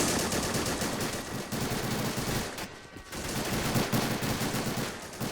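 Sustained automatic machine gun fire from a crewed MG in the World War II strategy game Men of War during an amphibious Ranger assault on a naval base, loud rapid bursts running almost continuously with a brief lull midway.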